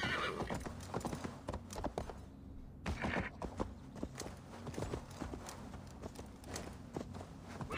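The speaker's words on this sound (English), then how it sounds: "Interesting that the closed captions does the hoofs clattering" Horse hooves clatter in a steady clip-clop with an occasional whinny in Assassin's Creed Valhalla, close and continuous amid game sounds.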